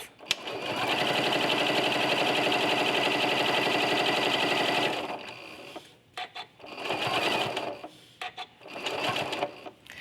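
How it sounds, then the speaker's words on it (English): A sewing machine stitches binding onto the front of a quilt, running in one long, rapid, even burst before a few shorter starts and stops for back stitches, loud and close. "I'm going to stitch down my binding on the front of my quilt."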